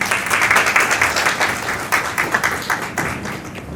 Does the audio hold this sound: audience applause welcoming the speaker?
yes